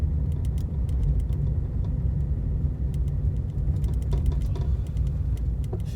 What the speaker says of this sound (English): See where this guy's going in his Skoda.